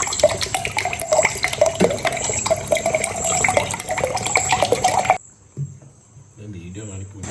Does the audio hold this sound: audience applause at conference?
no